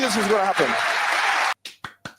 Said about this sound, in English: I think it's worth applauding here.